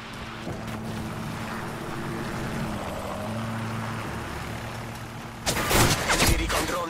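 Helicopter delivering a care package in Modern Warfare 3, a steady low rotor drone running under the game's ambient noise, then a loud burst of rushing air and wash near the end.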